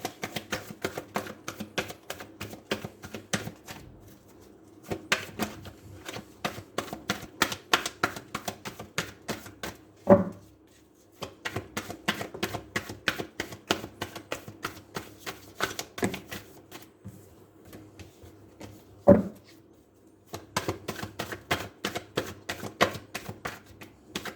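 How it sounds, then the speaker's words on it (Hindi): Tarot cards shuffled in rapid riffling bursts, a dense run of crisp papery flicks with two sharper slaps or taps between passes, close and fairly quiet with no talking. "पहले हम शफलिंग करेंगे अच्छे से, इसमें आपकी एनर्जी को डालने की कोशिश करेंगे।"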